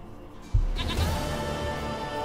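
A goat in The Witcher 3 gives a single close bleat that starts abruptly and trails off, heard alone with no talk.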